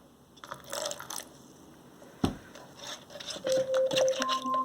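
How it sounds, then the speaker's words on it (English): Small splashes and trickles of water being poured into a container of yarn dye, with a sharp tap midway, close and fairly quiet. "I'm just adding however much water I feel like, a little bit at a time"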